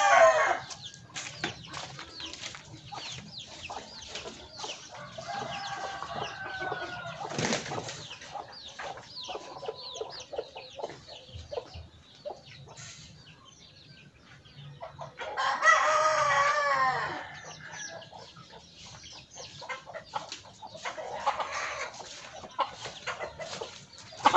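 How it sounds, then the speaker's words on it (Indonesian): Chickens fighting in a yard: a rooster crows, hens cluck and squawk, and wings flap in sudden bursts, with scuffling and clatter throughout; close, lively and irregular. "Sana ada ayam berkelahi, saya mau pisahkan dulu"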